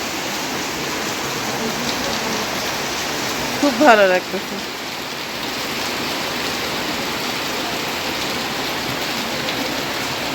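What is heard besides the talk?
heavy rain falling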